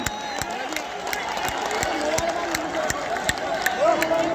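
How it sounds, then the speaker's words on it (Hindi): A large crowd welcomes Prime Minister Modi in Pithoragarh with sharp rhythmic clapping over a busy hubbub of voices and a public-address tone, sustained and close. "बहुत ही उल्लास के साथ तालियों से स्वागत करें।"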